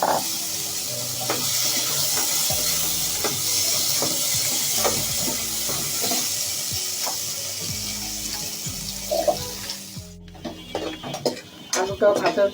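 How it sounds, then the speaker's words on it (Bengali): Potatoes fry in a kadai, a continuous close hiss of hot oil with light clinks and scrapes, quieting near the end. "এখন আলুটাও ভেজে নিব।"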